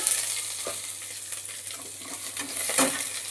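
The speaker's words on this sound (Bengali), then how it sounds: "পেঁয়াজ কুচিটা একটু ভাজা ভাজা করে নিই লাল লাল করে" Chopped onion fries in hot oil in a pan with a soft, continuous sizzle, broken by occasional light clinks of a stirring spoon.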